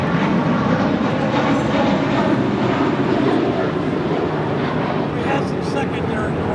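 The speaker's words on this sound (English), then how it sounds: "This is the DHL Polar Air Cargo 777 coming in from Anchorage." A DHL Polar Air Cargo Boeing 777 arriving at LAX from Anchorage makes a loud, continuous jet roar that holds steady throughout, dense and broad like a large airliner passing fairly close at the airport.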